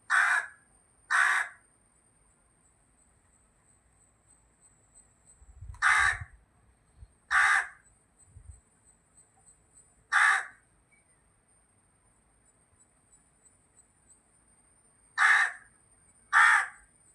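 A crow caws repeatedly, loud and close, in spaced pairs and single calls separated by quiet gaps.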